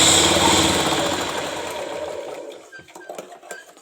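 A sewing machine runs a top stitch along a blouse, whirring loud and close at first, then slowing and fading into a few scattered mechanical ticks.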